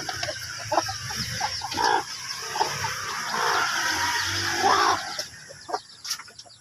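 Hungry three-day-old chicks peep and cluck, a scatter of short, bright chirps rising and falling across the clip at close range with no talk over them.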